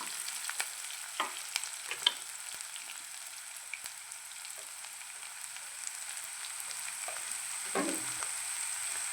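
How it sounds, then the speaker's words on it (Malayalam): Small onions sauté in a hot pan, a steady soft sizzle throughout with occasional light scrapes and stirring clicks, close but fairly quiet, no voices. "ചെറിയ ഉള്ളി ഇട്ട് കൊടുത്തിരിക്കുകയാണ്. അതൊന്ന് ചെറുതായിട്ട് വഴറ്റി എടുക്കാം."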